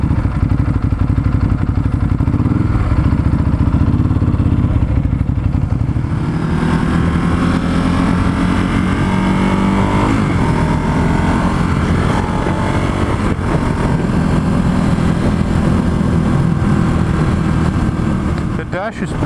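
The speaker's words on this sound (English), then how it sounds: "Engine sound is just absolutely great." A Ducati Hypermotard motorcycle engine runs steadily and loudly throughout on a test ride, its low rumble shifting pitch partway as the revs change, with voices talking over it.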